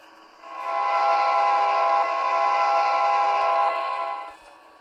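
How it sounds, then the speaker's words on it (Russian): A passenger train on the New York to Texas express route sounds a long, steady horn blast of about four seconds, loud and sustained, with no talking. "Уже поезд Техас отправляется"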